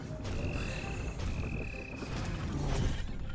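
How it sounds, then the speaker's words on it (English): Frogs croak in the game Adore, a few rough calls over a steady bed of game ambience and low rumble, with a thin sustained tone drifting through. "I don't like these frogs."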